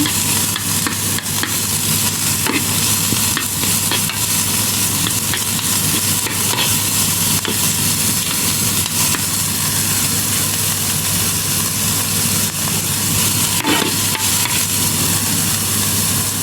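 Onion sautéing in a pan for tortang talong toppings, a loud, continuous close sizzle with a steady hiss and faint scraping stir strokes throughout.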